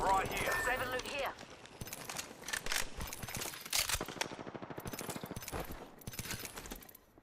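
Rapid gunfire from an enemy shooter in an online multiplayer video game, dense bursts of shots layered over game sounds and someone talking.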